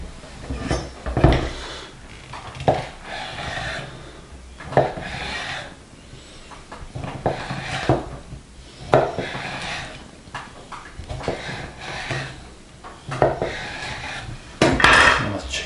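A knife slices through a smoked chicken breast on a board, with scraping strokes, soft thuds and clinks, close by, in irregular bursts.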